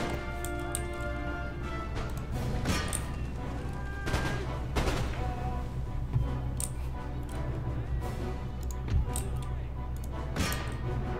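Round shot from artillery batteries booming across an Empire: Total War battlefield, a series of loud, sharp reports spaced every second or two over a steady low rumble of distant combat.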